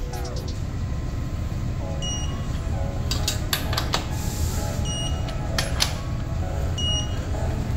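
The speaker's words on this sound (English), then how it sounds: "I'm doing the torquing of the main bolts," Main cap bolts on a Foxbody Mustang 5.0 302 being built into a 331 stroker are torqued down with a wrench, giving sharp metallic clicks and ticks, several clustered mid-way, over a steady shop hum.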